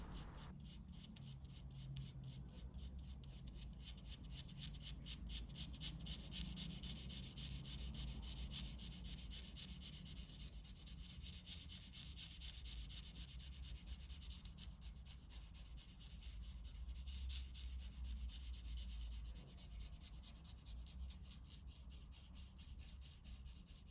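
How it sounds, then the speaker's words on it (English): A stiff brush blends Staedtler pencil marks across paper in a charcoal eye drawing, a faint, close, dry scratchy rubbing that repeats in quick strokes with no talking. "I'm blending out the pencil marks left by the Staedtler using a stiff brush. Can you hear that rough, scratchy sound?"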